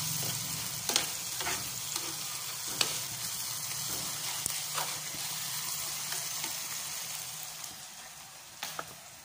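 Galunggong fish frying in a pan gives a steady, close crackling sizzle, with occasional sharp clicks of stirring or utensil taps throughout.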